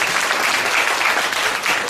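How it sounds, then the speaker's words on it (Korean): A lecture audience claps at a university department information session, a brief, loud, dense burst of applause that carries evenly throughout. "시작하기도 전에 박수를 받으면 굉장히 부담스러운데"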